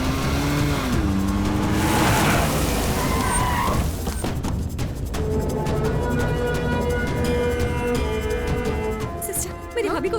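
A car revs hard and pulls away with tire squeal, the engine loud and close, its pitch climbing and shifting as it speeds off, with no one talking.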